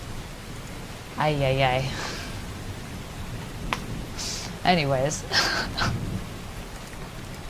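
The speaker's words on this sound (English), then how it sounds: "I'll turn the rain down." Steady rain sound effect plays as a continuous hiss throughout a livestream while someone talks over it in two short bursts.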